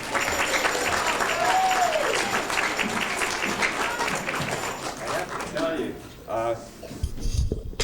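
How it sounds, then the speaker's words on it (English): An audience at a 1995 talent show claps as a performer is introduced, a fairly loud burst of applause that tapers toward the end while a voice talks over it and a few clinking sounds come through. "Give him a round of applause"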